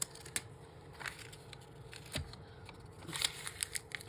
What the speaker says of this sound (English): Try to crumple this up without tearing it up.